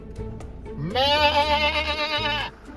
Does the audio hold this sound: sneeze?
no